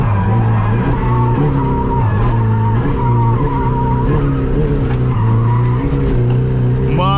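A Nissan S14 drifts with its tires skidding in a long, loud, continuous screech over the steady roar of the engine, close and unbroken, with a revving rise near the end.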